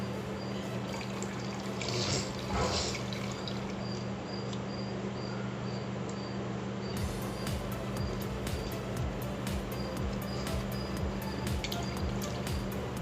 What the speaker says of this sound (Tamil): இதில் நம்ம வாட்டர் ஆட் பண்ணி